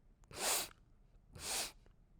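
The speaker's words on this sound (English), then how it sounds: "It sniffs," A wolf-like beast sniffs twice, close by and alone: two short breathy inhalations about a second apart, with quiet pauses between them.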